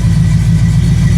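AMC 304 V8 with Aces EFI idling on a dyno, a loud, steady low rumble with an even, throbbing pulse, close and unbroken for the whole moment, no talking.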